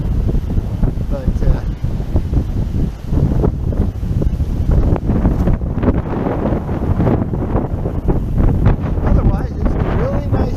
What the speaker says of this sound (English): we got a bit of wind, and when it warms up like this, it's always a little on the breezy side